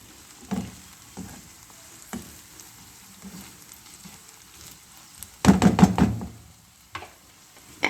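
Cabbage and carrot sauté in a covered pan, giving a faint sizzle with scattered knocks and a louder burst of clattering, frying noise toward the end.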